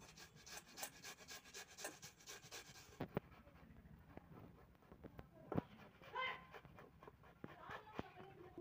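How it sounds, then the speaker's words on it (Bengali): Washed cauliflower rubbed against a grater in rapid rhythmic strokes, a close, quiet, rasping scrape repeating throughout with brief pauses. "এবার আমি কেচারে করে ঘষে নেব।"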